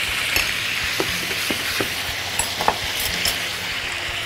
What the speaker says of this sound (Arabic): ونبتدي نقلب شوفوا معايا الطماطم بتاعتي